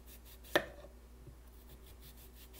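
A knife cuts slices from a peeled cucumber for sushi rolls, giving two crisp, sharp chops about two seconds apart, near and fairly quiet over a soft room background.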